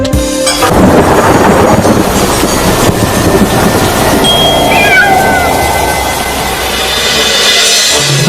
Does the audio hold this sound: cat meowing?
yes